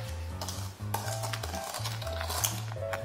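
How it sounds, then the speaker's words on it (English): A utensil stirs salt into cake batter in a mixing bowl, with soft scraping and clinking against the bowl over a steady low background hum, fairly close. "I gotta mix the salt in."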